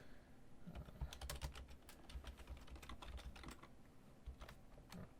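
Typing on a computer keyboard, quick irregular bursts of light key clicks close by and fairly quiet, with short pauses between runs.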